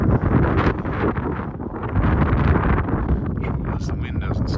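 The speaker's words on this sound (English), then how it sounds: "As the wind doesn't stop that much." Wind blowing steadily on an exposed hiking trail, a loud, continuous gusting roar buffeting the microphone with rustling, swelling and easing slightly but never dropping away.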